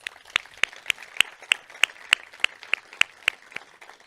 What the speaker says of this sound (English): If we can give them a round of applause, please.